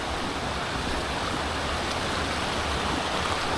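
A river on Fairlie Moor in Scotland rushes steadily close by, a loud, continuous broadband roar of flowing water with no pauses and no voices.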